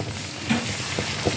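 Brinjal curry with salt sautéing in a pan, a steady soft sizzle and hiss of frying with faint stirring clicks, close and continuous through the short moment, with no talk.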